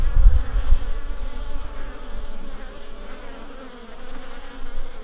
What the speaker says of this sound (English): There are actually bees coming in with pollen.